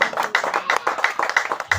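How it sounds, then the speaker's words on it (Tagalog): A church congregation claps for the Lord during a sermon, producing a quick, fairly rhythmic run of hand claps, close and distinct, with a few overlapping strikes. "Palakpak para sa Ginoo."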